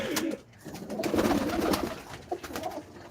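Several male pigeons coo in low, throaty, repeated bursts at close range in a loft where they are fighting, with some fluttery rustling between calls and no talking.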